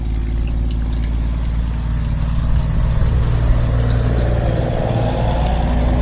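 A toilet in a hall bathroom flushes during a drain flow test, a loud, close, continuous rush of water with a shifting swirl toward the end, and no voices.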